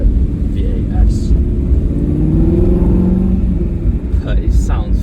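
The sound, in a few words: Aston Martin V8 Vantage N430 engine and exhaust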